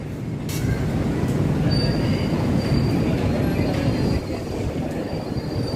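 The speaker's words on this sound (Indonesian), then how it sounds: "kereta kita udah datang nih" A train arrives at a station, rolling steadily past at close range, its wheels rumbling loudly with a thin, sustained metallic squeal running over the top.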